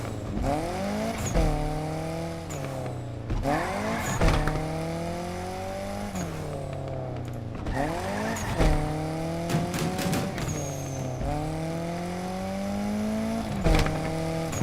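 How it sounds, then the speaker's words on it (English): Racing cars in the video game Need for Speed Unbound rev hard through repeated rising gear-shift sweeps, with short tire squeals and a steady whir underneath, loud and continuous with no talk. "Game audio is perfect. How it blends car sounds and music."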